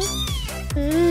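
A cartoon kitten gives a drawn-out, plaintive meow followed by a second rising mewl, loud and close, with a few soft thumps between.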